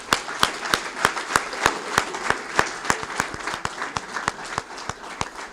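A large audience at an evening event welcomes the Chief Justice with loud, continuous applause. Strong, rhythmic claps cut through the dense crowd clapping, which stays steady throughout without any voices on top.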